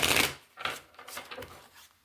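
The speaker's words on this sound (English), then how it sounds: "I guess I can shuffle over here where the camera can watch." Tarot cards being shuffled by hand during a full moon card reading, a brisk riffling burst at the start followed by softer intermittent flicks and slides of the deck, close and alone.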